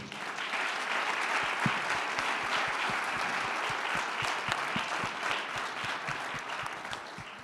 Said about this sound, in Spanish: No hay preguntas, pero sí otro aplauso, por favor